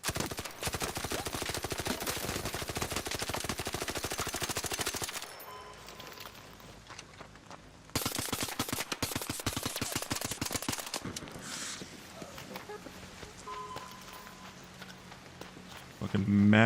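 Rapid bursts of automatic gunfire in the game Arc Raiders, a long sustained spray up front, a pause, then another volley, with quieter footsteps and faint clatter between bursts.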